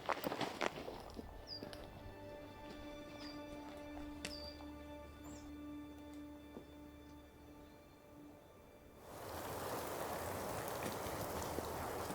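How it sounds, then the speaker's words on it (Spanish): Steady rain hisses down on a forest campsite ahead of an electric storm, with soft footsteps and scattered drips early on, then a louder, denser wash of rainfall sweeping in near the end. "Ya se ha puesto a llover"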